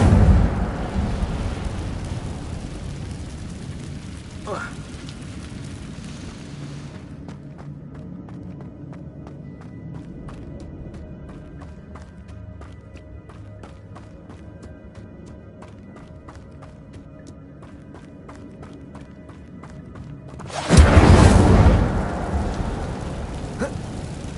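A fire spell is cast in Hogwarts Legacy inside a quiet cave, erupting as a sudden loud roaring whoosh of flame near the end after a long stretch of faint ambience.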